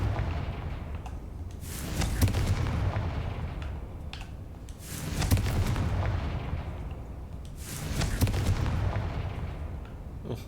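Repeated explosive blasts from the Confringo fire spell in Hogwarts Legacy, set inside an abandoned mine, bursting roughly every three seconds as loud booming impacts with rumbling tails.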